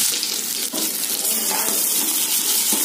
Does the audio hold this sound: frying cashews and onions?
yes